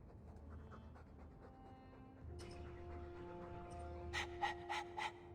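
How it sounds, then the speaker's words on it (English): A warhound panting in the Dragon Age 2 video game, rapid rhythmic breaths that grow louder toward the end, with a few soft chirps in the background. "All that noisy dog breath"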